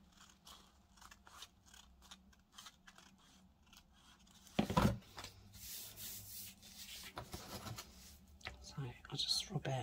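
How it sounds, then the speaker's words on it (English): Paper piece rubbed down onto a junk journal page, soft close scraping and rubbing strokes in short bursts, with snips and handling noises around it and quiet talk over part of it. "I'll just rub it down to make sure that it's connected."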